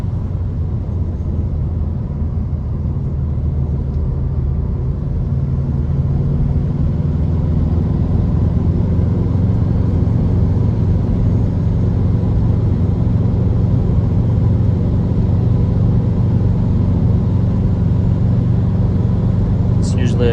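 High-mileage Subaru WRX Bugeye engine pulling at full throttle from inside the car, a loud, steady low rumble and drone that holds for the whole stretch.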